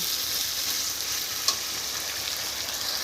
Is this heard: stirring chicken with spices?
yes